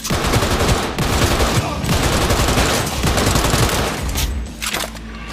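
Automatic gunfire from the video game Cyberpunk 2077, loud and sustained with overlapping rapid shots and explosive bursts filling the whole stretch, sometimes layered over other game noise.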